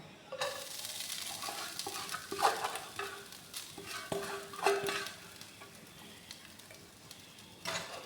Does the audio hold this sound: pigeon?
no